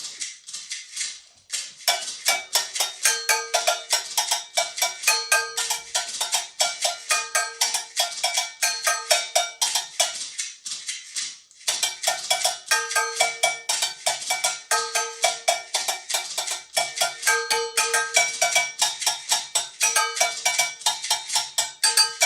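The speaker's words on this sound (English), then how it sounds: "What about my agogo? Can you hear that?" Agogo bell made from recycled materials, struck in a quick, steady rhythmic pattern with bright metallic clanks, close and loud, with a brief pause near the start and another around the middle.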